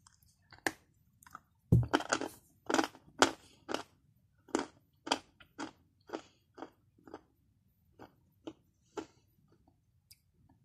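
Bites and chews of crunchy Bashkir edible clay, close-miked: a few sharp crunches, then slower, spaced chewing crunches with quiet pauses between them and no talk.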